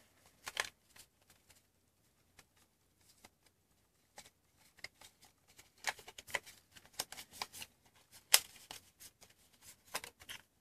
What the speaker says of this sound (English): Shuffle up the cards.